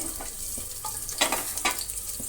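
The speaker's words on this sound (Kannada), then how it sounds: "ಈಗ ನಾನು ಒಂದು ಸ್ವಲ್ಪ ಸಾಸಿವೆ ಹಾಕ್ತಾಯಿದ್ದೀನಿ ಮತ್ತು ನೋಡಿ ಕಟ್ ಮಾಡಿರುವಂತಹ ಈರುಳ್ಳಿ ಒಂದು ಸ್ವಲ್ಪ ಹಾಕ್ತಾಯಿದ್ದೀನಿ" Mustard seeds and chopped onion sizzle in hot oil, a close, steady frying hiss broken by scattered sharp pops and crackles, with no talking.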